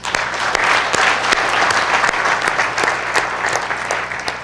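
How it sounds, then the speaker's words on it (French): An audience at a panel discussion claps warmly and steadily, a dense even wash of applause with a few sharper individual claps standing out. "Je voudrais qu'on vous applaudisse."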